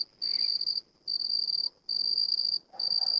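A cicada shrills in steady, loud bursts, four sustained buzzing phrases separated by brief pauses, heard up close with no talking over it.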